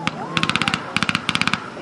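Gunfire crackles in rapid bursts of sharp shots at a reenactment of a spring 1945 WWII battle at an outdoor festival, loud and close, with short pauses between volleys.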